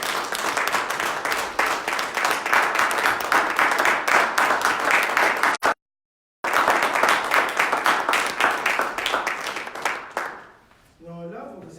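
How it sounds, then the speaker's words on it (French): A church congregation claps and cheers loudly and rhythmically, in bursts broken by a brief dropout, then fades as a voice starts speaking. "Nous allons alors saluer nos amis avec nos acclamations."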